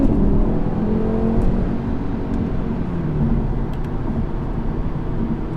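A 2019 Audi RS3 with a particulate filter drones steadily from inside the cabin while driving, with a low, even engine and exhaust note and tyre roar and no clear revving peaks.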